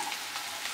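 Chopped onions frying in a pan for a vegetable pizza puff filling give a steady, close sizzle with fine crackling pops throughout the short moment.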